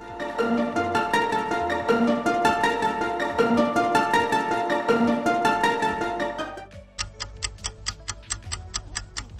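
A Loch-Nitt monster voice from My Singing Monsters: a layered, looping musical phrase with steady rhythmic pulses, giving way after about seven seconds to a sparse, sharp ticking pattern.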